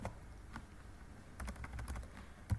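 Fingers tapping on a computer keyboard, faint and close, in a sparse few keystrokes followed by a quicker burst of clicks and one final harder press, with no talking.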